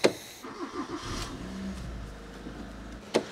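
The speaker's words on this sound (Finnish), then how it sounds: "Ei se jaksa startata." A Mazda 323 engine cranks steadily with a starter whirring for about three seconds, struggling without catching, close by in a garage, with a click at the start and end.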